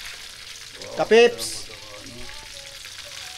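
Food sizzles as it fries in oil until golden brown in a pan, a steady soft crackle with a brief louder pop of spattering, while a person calls out briefly.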